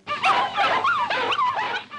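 Several dogs whine and yelp in a continuous wavering chorus, close and fairly loud, pitch sliding up and down without clear separate barks, in an animated cartoon.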